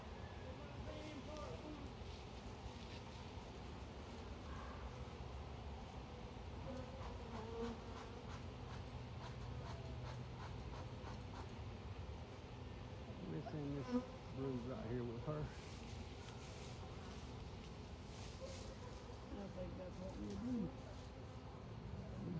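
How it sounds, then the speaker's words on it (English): Honey bees buzz in a dense, continuous drone while a large box hive is split, with intermittent voices talking over the swarm and occasional handling noises. "I want to shake a few more bees in."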